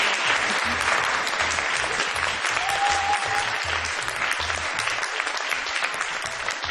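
Sustained applause from a large crowd, steady and dense, with rhythmic clapping in time and a brief tone rising above it partway through.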